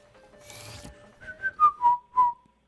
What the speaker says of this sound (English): Whistle right into the microphone